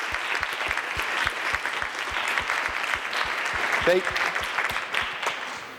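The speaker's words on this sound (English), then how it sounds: "let's give them actually another round of applause to the whole staff" A panel discussion audience applauds steadily and loudly, dense clapping that holds for several seconds without pause.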